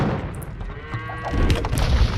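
A castle collapses under trebuchet and bombard cannon fire in the strategy game Age of Empires, with deep booms and rumbling crashes building toward the end over a short burst.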